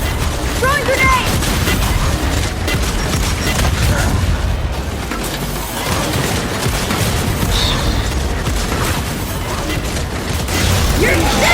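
A grenade thrown and detonating in the video game Gears 5, amid continuous loud combat noise with booms and gunfire throughout and voices shouting over it.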